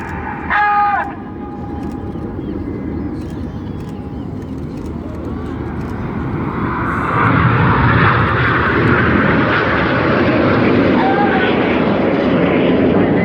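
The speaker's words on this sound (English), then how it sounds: "8 and 9 pitching up with coloured smoke to draw circles around synchro." Red Arrows jets roar through an evening display at the Sunderland International Airshow, a broad rushing drone that swells louder partway through and stays loud, with a voice talking over it.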